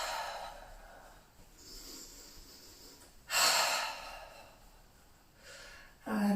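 Slow breathing during a morning meditation and movement session while the shoulders shrug up and down, with soft airy breaths and two sharper, louder exhales or sniffs standing out near the middle and at the end.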